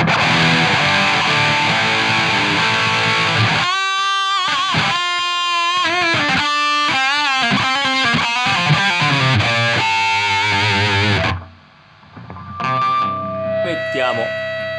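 A Gibson 335 electric guitar with a Burstbucker pickup through an overdrive with more gain, loud distorted riffs and sustained chords played up close, ending in a short pause and a few further notes.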